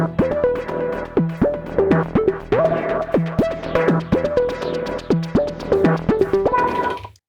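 Elektron Syntakt groovebox playing a chord pattern through its analog effect block, with sequenced volume trigs making repeated rhythmic swells that pump in steady steps, close and clear with no voices.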